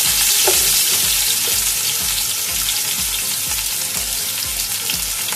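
Onions fry in oil in a cooking pot for beef or mutton pulao, a loud, steady sizzle broken by regular scraping stir strokes, close up and with no voices.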